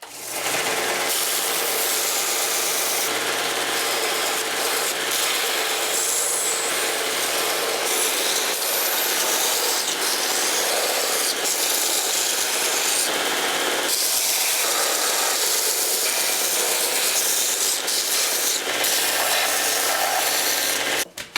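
A wooden knife handle is ground on a power grinder. The grinding noise is loud, harsh and continuous, rasping and hissing with small shifts in pressure, and runs for about twenty seconds with no talk.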